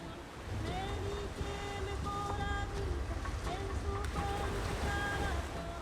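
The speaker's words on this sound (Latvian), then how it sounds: "Mildas komanda piedzīvoja līdz šim smagāko vētru, kad pušot 12 balles stipram vējam, gandrīz orkānam" A sailing yacht at sea rides out a near-hurricane storm with force-12 winds, and loud, steady wind roar and rushing waves surround it without a break, with faint whistling tones riding over the noise.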